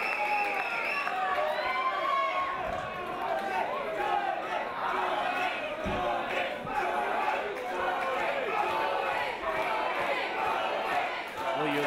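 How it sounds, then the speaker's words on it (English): A wrestling crowd at an ICW Fight Club show roars and chatters continuously, a broad distant wash of cheering voices with a few thumps from the ring, under a commentator's talk. "Listen to this crowd."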